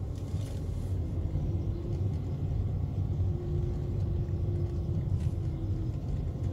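A car rolls slowly to park on a street in Odesa, its low engine rumble steady and muted from inside, with a faint hum and no voices.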